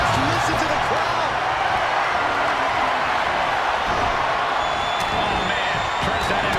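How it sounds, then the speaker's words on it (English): A large video game arena crowd at a WWE 2K23 Royal Rumble match roars and cheers in a steady, dense wash of noise, continuous and loud throughout. "Just listen to the crowd."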